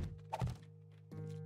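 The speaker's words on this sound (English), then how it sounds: "I placed some wood spikes" Wooden spikes being placed in the survival video game 7 Days To Die give two short hollow thunks, close and fairly soft, separated by a brief pause.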